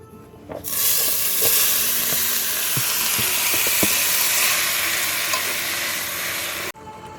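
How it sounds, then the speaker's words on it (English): Cut vegetables for Jamaican-style spaghetti sautéing in a pan, a loud continuous sizzle that bursts on as they hit the oil, with scattered stirring clicks, before cutting off abruptly near the end. "All my vegetable is cut up, and then I'm gonna saute that down."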